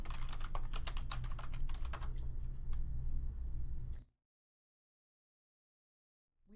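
Typing on a computer keyboard to enter a username and password: a rapid run of close, crisp key clicks for about four seconds, then silence.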